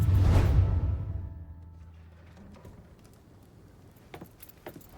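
Keys jangle as they are snatched up in the Mafia 3 video game, a short bright metallic rattle up front that quickly fades, followed by faint scattered clicks and small movements.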